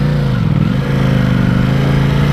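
A Ducati Panigale V4S motorcycle engine idles loudly and close, a steady low thrum with a slight dip and rise partway through, and no voices over it.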